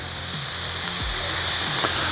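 Food sizzles steadily on a VEVOR 21-inch commercial electric griddle, a constant close frying hiss with no talking.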